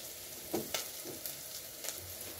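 Onions frying in a pot for chicken stew give a steady soft sizzle, with a few brief louder crackles and stirring scrapes over the hiss; no one talks.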